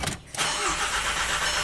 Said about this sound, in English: Crank no start.